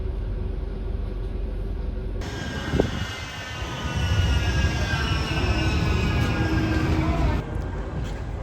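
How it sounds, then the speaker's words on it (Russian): A tram rumbles steadily through a transfer station in Manchester, its broadband hum and rolling noise filling the scene, with a brief clank near the start and no talking. "Я на трамвайной станции, где можно сделать пересадку."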